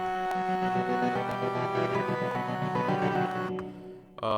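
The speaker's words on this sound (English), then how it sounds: "The intro, brought in the sample and the surge sound" A sustained, dense Surge synth pad layered with a sampled musical loop in a beat intro, steady and full, briefly dropping away near the end before returning.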